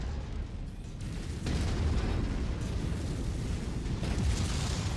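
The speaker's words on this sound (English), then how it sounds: "Oh, we do have artillery too" Artillery barrage in MechWarrior 5: a continuous, loud roar of overlapping blasts and rumbling detonations, swelling sharply after the first second and again near the end, with no voices.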